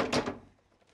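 A single drawer pulled out in a home, a short close scraping slide with a brief thump, then quiet.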